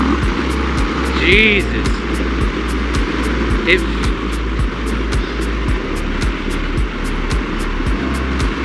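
An Indian Chief Bobber Dark Horse motorcycle engine pulls hard and loud as the rider rolls into the throttle, with a steady deep pulsing drone and a man briefly exclaiming over it.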